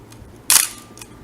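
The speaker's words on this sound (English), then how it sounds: "the shutter release button is angled right here in the front, so you actually actuate that" A film camera's front-angled shutter release is pressed, giving one sharp, loud mechanical snap with a brief ringing tail, followed by a fainter click about half a second later; no one speaks.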